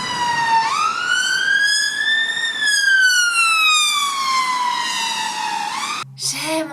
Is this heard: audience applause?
no